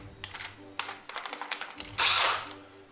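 Metal clamp being screwed down on a homemade vacuum ink-cartridge refill machine, with a run of small ratcheting clicks and scrapes, then a louder sustained grinding burst near the end.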